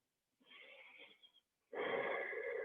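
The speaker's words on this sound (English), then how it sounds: "breathing in," Two slow, audible breaths during a yin and restorative yoga practice, a softer airy inhale followed by a fuller, louder exhale, close and alone without talk.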